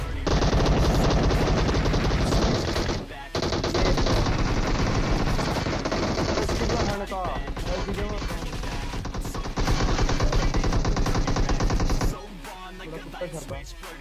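Sustained automatic gunfire in the PUBG Mobile battle-royale game, dense rapid bursts filling nearly the whole stretch with brief gaps, loud and close, with a player's excited voice over it.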